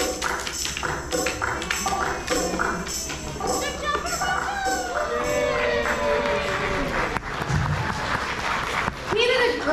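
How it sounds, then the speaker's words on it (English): Audience at Busch Gardens clapping for a child who just demonstrated recycling, steady applause filling the whole stretch with some cheering and voices mixed in. "Thank you for giving him a round of applause"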